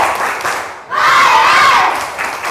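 A class of students shouts in unison during a classroom chant, a loud group cry that swells after a short pause, with rhythmic clapping and voices blending into one burst.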